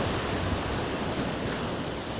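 Sea waves washing onto a sandy beach in the early morning, a steady full hiss of surf and wind, loud and continuous with no speech.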